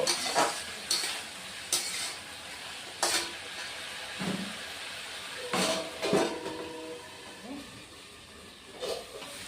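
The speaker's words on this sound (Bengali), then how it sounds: "এবার হলুদ লবণ দিয়ে কিছুক্ষণ কষে নিব" Mutton sautéing with turmeric and salt for a Bengali-style curry, a soft continuous sizzle broken by repeated scraping stirs of a spatula against the pot, fairly quiet and close.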